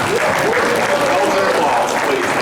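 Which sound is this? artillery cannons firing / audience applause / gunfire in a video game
audience applause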